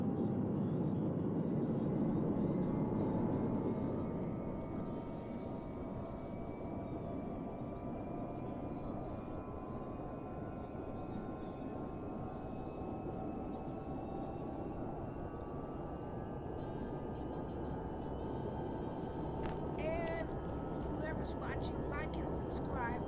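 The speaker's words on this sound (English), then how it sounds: "here's a Aer Lingus Airbus A321 on a non-stop flight to Dublin, Ireland, from here at Washington Dulles International" An Aer Lingus Airbus A321 jet airliner at Washington Dulles International, a steady distant jet roar and whine that stays loud throughout, with people talking in the background.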